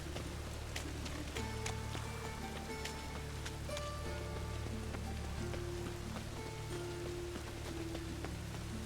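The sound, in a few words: rain in the video game The Witcher 3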